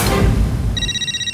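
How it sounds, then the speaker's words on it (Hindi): A telephone rings at home during a Taarak Mehta Ka Ooltah Chashmah sitcom scene, its steady electronic ringtone repeating as bright pulses after a burst of background bustle and low rumble. "मैं देखता हूँ किसका फोन है"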